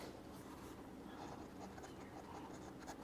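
A pen scratches steadily across paper while writing out a math solution, a soft continuous scraping close up with faint background hiss and a quiet voice murmuring beneath it.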